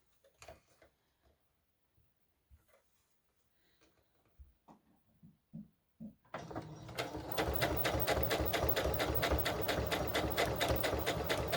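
After several seconds of faint, scattered handling taps and rustles, a sewing machine starts up and runs a straight stitch on a doll bodice, giving a loud, continuous, rapidly pulsing mechanical whir close by.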